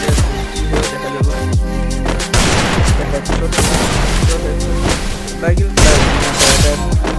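Rapid gunfire from a shooting video game, with dense bursts and repeated shots running throughout, loud and continuous, while someone talks over the game audio.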